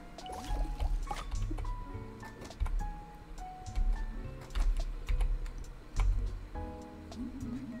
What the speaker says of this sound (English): Shall I water the plant?